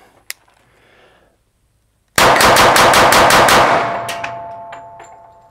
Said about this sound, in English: I just want to see how fast I can fire it.